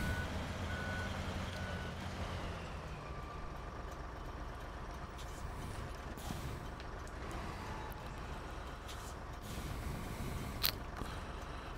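In the truck game SnowRunner, a truck engine rumbles steadily while faint, regular reversing beeps pulse over it, with a few brief clunks and hisses toward the end.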